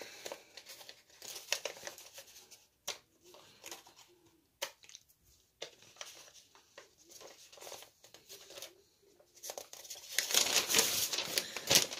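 Paper crinkles and rustles in irregular bursts as a large printed user manual for a waterproof brushless speed controller, packed with a Redcat Racing Dukono Pro RC car, is unfolded and handled, with louder crumpling near the end.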